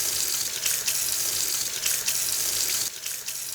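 Running tap water rinses soap out of a hair brush's bristles at a sink, a steady hissing stream with slight splashing fluctuations throughout, close and alone without voices.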